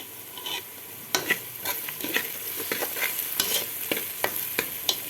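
Softened onions frying in a pan give a steady sizzle, broken by repeated scraping strokes of a spoon stirring them, close and fairly loud with no voices.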